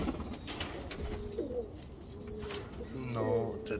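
Racing pigeons coo softly on a rooftop in the UK, giving a few low, rolling coos at fairly close range. People talk quietly at the same time.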